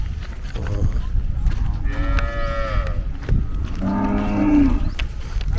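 Cattle moo repeatedly at a native cattle market at the Kannapuram chariot festival near Olapalayam, with two long drawn-out lows rising over a constant murmur of crowd noise and rumbling background.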